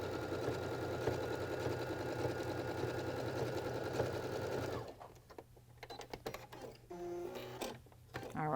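Baby Lock sewing machine fitted with a garment maker foot runs steadily through several layers of fabric, a continuous loud mechanical whir that stops after about five seconds, followed by quieter handling clicks and rustles.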